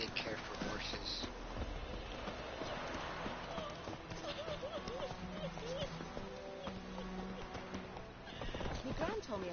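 A horse neighs and whinnies among hoofbeats in the video game The Witcher 3: Wild Hunt, with soft speech and background game sounds mixed in at low volume.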